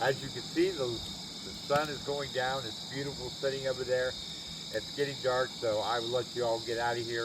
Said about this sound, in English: I get to hear the crickets and locusts and just the night air,